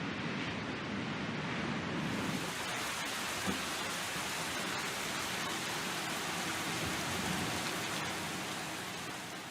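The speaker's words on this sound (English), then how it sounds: "now you have the distinct sounds of rain, hail, and wind" Steady rain in the X-Plane 12 flight simulator, a dense even hiss of falling drops that holds at constant loudness throughout, with no voices.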